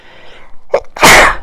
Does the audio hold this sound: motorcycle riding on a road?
no